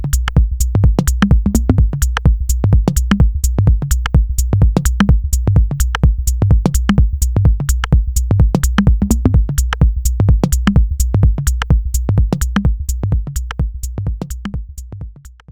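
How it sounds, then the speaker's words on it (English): A minimal techno pattern programmed on an Elektron Analog Rytm drum machine, with a steady four-on-the-floor kick under tight ticking hats and percussion, looping loudly without a break for about fifteen seconds. "this time on the analog rhythm and creating a minimal techno pattern"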